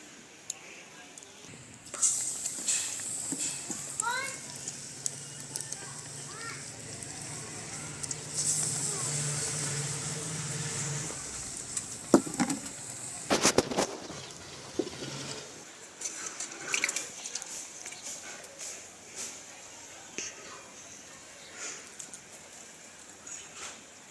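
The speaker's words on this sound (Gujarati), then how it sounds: "તો આપણે તેલ ગરમ થઈ ગયું છે. તેમાં આપણે આ પકોડા તળી લેવાના છે." Bread pakoras, made from bread cut into pieces, deep-fry in hot oil in a village kitchen. A steady hiss of bubbling oil rises after a couple of seconds and runs for much of the stretch before easing off into quieter sizzling.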